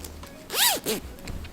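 A jacket zipper rasps briefly, two quick up-and-down strokes close by, with light rattling as the unweighted pull swings.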